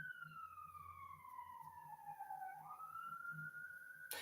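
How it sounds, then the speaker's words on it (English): Emergency sirens of police, ambulance and fire engines travelling down a main road, a clear rising and falling wail sweeping across the whole stretch at moderate distance over steady traffic rumble, with no talk. "So there you go, the police, ambulance, and fire engines down the main road."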